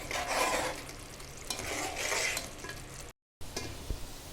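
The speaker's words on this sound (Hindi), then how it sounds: "अब इसे और अच्छी तरह से भूना जाएगा जब तक कि ये इसमें अच्छी तरह से शामिल ना हो जाए।" Masala with cream fried and stirred in a pan for chicken tikka masala, a soft continuous sizzle with rhythmic scraping stirs, close and fairly quiet, with a momentary cut-out near the end.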